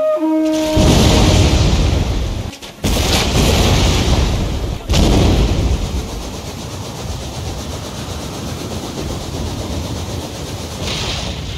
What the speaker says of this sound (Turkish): Kuşatmanın ilk aşamasında Osmanlı topçu birlikleri şehri yoğun bir şekilde bombalamaya başladı.